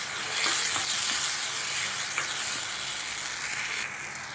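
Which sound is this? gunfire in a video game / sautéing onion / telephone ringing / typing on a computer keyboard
sautéing onion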